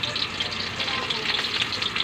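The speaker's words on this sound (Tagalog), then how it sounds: "kasi kumukulo na po yung mantika natin" Hot cooking oil sizzles steadily in a pan while cooking dinuguan, a dense crackling hiss that stays loud and constant throughout.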